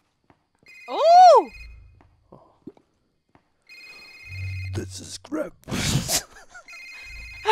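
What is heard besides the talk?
telephone ringing in a Krampus Christmas video game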